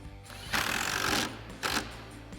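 A power driver with a T40 Torx bit tightens a lower bolt on a Jeep Wrangler JL Bestop soft top, giving two short mechanical whirring bursts, one longer and one brief, close by.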